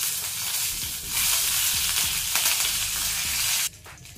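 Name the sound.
frying lentils, dried red chillies and curry leaves in oil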